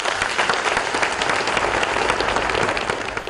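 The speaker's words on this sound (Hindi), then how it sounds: "पूरा हॉल तालियों की गड़गड़ाहट से गूंज उठा।" A full hall applauds after a speech by Narendra Modi to Japanese business people, dense continuous clapping from a large crowd, loud and steady throughout.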